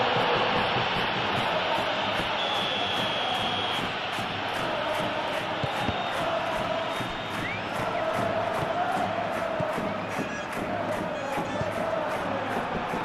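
Stadium crowd noise from a football video game fills the scene with a dense, continuous roar of cheering and chanting, steady throughout with brief rhythmic clapping pulses on top.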